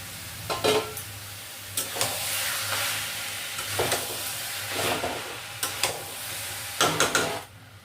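Marinated mutton in sour yogurt sizzles and fries in a pan, with a steady hiss broken by repeated scraping stirs of a spoon against the pan, close and fairly quiet, no voices.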